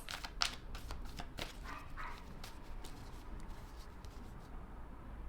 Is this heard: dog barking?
yes